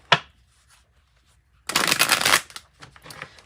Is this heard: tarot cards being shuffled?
yes